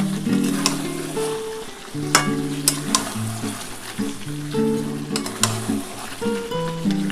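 Dhaba-style chicken curry masala sizzling in oil in a pan, a continuous close frying hiss with intermittent stirring scrapes and clinks, no voices.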